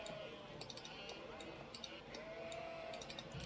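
Sheep in the real-time strategy game Age of Empires 4 bleat a few times, faint and short, beneath continuous commentary from a player.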